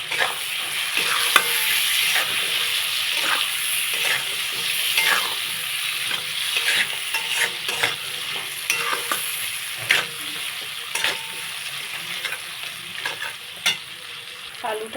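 Thin-cut potato sticks frying with spices in a pan for a Bengali pabda fish curry, a continuous sizzle broken by frequent scraping stir strokes at an irregular rhythm, close and moderately loud, with no voices.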